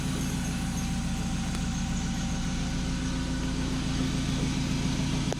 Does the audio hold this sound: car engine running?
yes